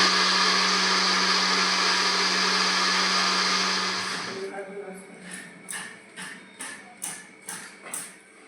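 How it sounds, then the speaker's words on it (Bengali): An electric mixer grinds Nabanna rice with chopped ginger, radish and raisins, a steady loud whirring drone for about four seconds before it stops, followed by a series of short knocks and scraping bumps. "তো এগুলো বেটে নেব এখনই মিক্সিতে"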